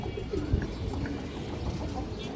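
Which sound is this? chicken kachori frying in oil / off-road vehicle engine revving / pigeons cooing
pigeons cooing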